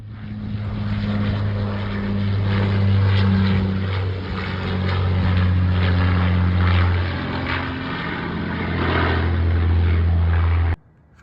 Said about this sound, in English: Does anybody know what plane this is?